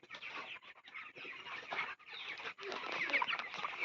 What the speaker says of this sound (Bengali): 25 দিনের মুরগি